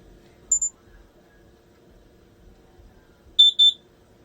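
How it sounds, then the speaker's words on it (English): High electronic chirps from a smoke detector with a dying battery: a brief double beep, a long quiet stretch, then another double chirp, sharp and distinct. "That beeping is my smoke detector. The battery is dying"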